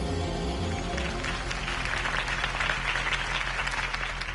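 A crowd in the Telltale Batman game applauds after a campaign speech, with dense, sustained clapping at a steady level and no talk.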